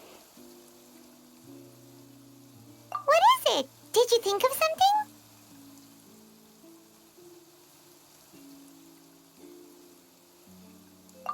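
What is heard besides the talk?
rain falling in video game Genshin Impact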